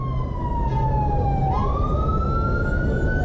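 An ambulance siren passes along a city street, a loud wailing tone that holds steady then dips and rises again, close by over low traffic rumble.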